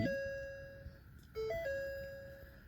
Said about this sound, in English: I know it's hard to tell over the chime, but you can hear the fuel pump cycling